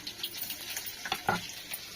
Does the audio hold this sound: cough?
no